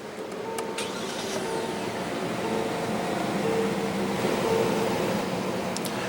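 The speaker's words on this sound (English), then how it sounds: "what you're hearing there was a 5-liter V8 engine" A 2016 Hyundai Equus Ultimate's 5.0-liter V8 runs after a push-button start, heard from the cabin as a steady, smooth hum. The level is moderate and even, with faint clicks near the start and the end.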